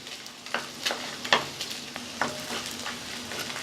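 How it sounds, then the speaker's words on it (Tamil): Garlic, onion and red chillies sautéing in a pan for garlic chutney, a soft sizzle broken by a few light scraping stirs, close and fairly quiet. "சேர்த்துட்டு எல்லாமே நல்லா வதக்கி விட்டுக்கலாம்"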